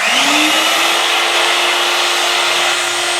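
A small electric blender whirs steadily as it blends a caramel pudding mixture, its motor spinning up at the start and then holding a loud, even, high-pitched drone throughout with no talking.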